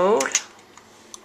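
Keys tapped on a vintage IBM computer keyboard while entering a BASIC command: a few quick, close clicks just after a voice, then sparse faint taps.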